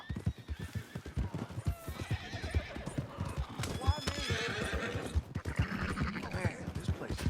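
A horse in Red Dead Redemption 2 whinnies and its hooves clatter amid a busy game scene, with voices talking over the neighing and hoofbeats.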